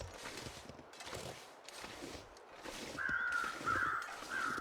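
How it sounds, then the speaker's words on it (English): Crows cawing in the snowy wilderness of the survival game The Long Dark, a few harsh calls over the last second and a half, fairly close above soft crunching footsteps and ambient wind. "Because I see crows."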